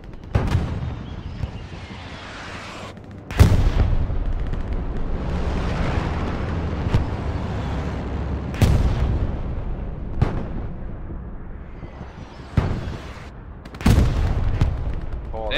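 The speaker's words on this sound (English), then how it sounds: "They're bombing the dickens out of that place" A WW2 firefight rages with repeated heavy artillery blasts and gunfire. Loud, deep booms strike every few seconds over a constant rumbling roar of distant battle, with a few sharper bursts standing out.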